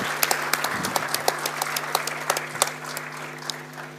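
A round of applause from the audience at an architecture students' annual general body meeting, steady and moderately distant across four seconds, with a low electrical hum underneath.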